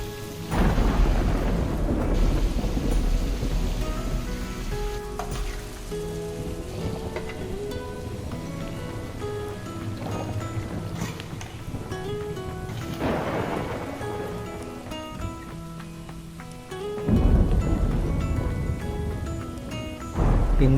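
Heavy rain pours steadily near a supermarket, with deep rolling thunder rumbling through and a loud crack near the end; no voices.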